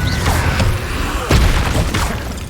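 Incendio fire spell cast in Hogwarts Legacy gameplay, a loud fiery burst with a sharp whoosh midway through, over a dense, rumbling combat din with scattered impacts.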